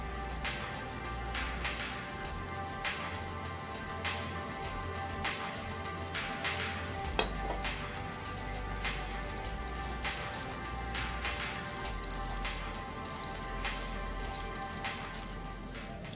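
Mustard oil sizzles in a pan while a Bengali rohu fish bati chorchori is being cooked, giving a steady, close crackle and hiss that runs on without a break.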